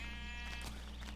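Sheep bleating in a modded Minecraft game, a single drawn-out wavering bleat at low volume over steady background hum.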